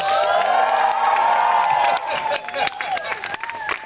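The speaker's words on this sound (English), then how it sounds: "And listen to that crowd!" A crowd cheers and whoops at a Renaissance faire performance, loud sustained shouting and yelling with some clapping, which breaks into scattered, uneven voices after the first couple of seconds.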